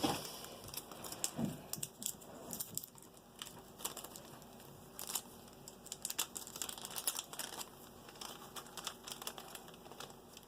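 A paper towel crinkles and rustles as it is handled for cold stratifying apple seeds, giving close, faint, irregular crackles and soft scrapes with no talk over them.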